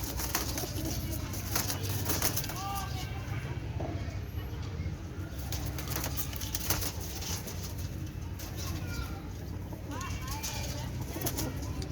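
Pigeons kept by a Lahore pigeon fancier coo softly and intermittently at moderate distance, over steady low outdoor background noise.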